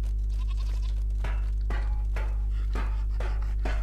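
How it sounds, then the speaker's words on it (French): Goats in a video game, set in a colony laboratory on The Center, bleat in several short, repeated calls over a loud low hum. "Et les petites chèvres là, sont toutes mignonnes."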